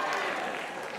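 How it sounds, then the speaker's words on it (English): Crowd at a 2001 North Penn High School class event applauding and cheering, a dense, even burst of clapping that fades slightly by the end. "Let's give her a cheer."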